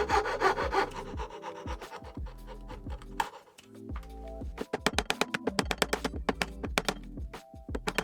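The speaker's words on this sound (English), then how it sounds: "again cutting everything with a handsaw" A handsaw rasps through wood for a rolling top box, fast rhythmic back-and-forth strokes, close and loud, with a brief pause before the strokes resume quicker and sharper.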